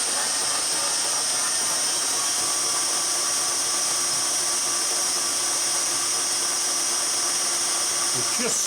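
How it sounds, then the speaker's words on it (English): Continuous scraping around a round hole in a Leyland bucket, a steady harsh hissing grind that stays close and loud throughout without pause. "We're just scraping now all the way around"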